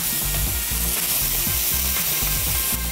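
Button mushrooms fry in a hot pan, a steady dense sizzle with rhythmic scraping as they are stirred, close and loud, with no talking.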